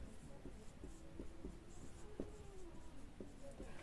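A pen writes an equation on paper for a Class 10 maths lesson, producing soft, close scratching strokes with small irregular taps, quiet and without speech.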